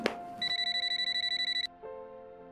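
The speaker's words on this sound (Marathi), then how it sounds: "तो फोन उचल आधी." A telephone bell rings in a rapid pulsing burst for about a second, then stops, followed by a softer lower tone.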